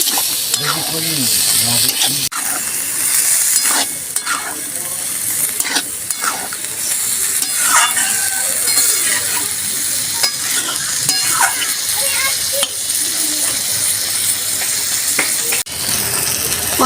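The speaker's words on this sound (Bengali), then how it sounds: "সিদ্ধ করে রাখা মটরটা দিয়ে দেবো দিয়ে আমি আবারও ভালো করে কষবো" Boiled peas for vegetarian ghugni stir-fried in a pan, a steady loud sizzle under repeated scraping strokes of a spatula, close up throughout with no speech.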